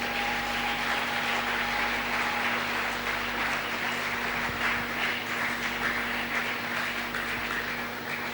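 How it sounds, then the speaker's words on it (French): A church congregation applauds the Lord during a sermon: sustained, dense clapping from a crowd fills the room for several seconds with no speech over it. "Est-ce que tu peux acclamer très fort le Seigneur?"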